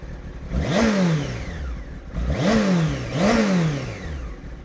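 A Honda RR motorcycle engine, warm from a recent ride, is blipped three times in quick succession, each rev rising sharply and then falling away, loud and close with no talking.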